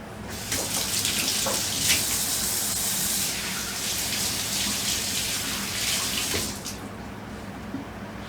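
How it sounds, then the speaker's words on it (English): A kitchen tap runs steadily into a sink while hands are washed, a loud continuous splashing rush lasting several seconds before easing off. "I'm going to wash my hands so I can get my seasoning on them."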